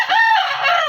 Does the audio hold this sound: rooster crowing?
yes